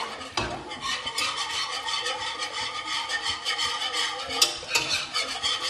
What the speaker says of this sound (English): I'm going to whisk this up to break down all that stuff.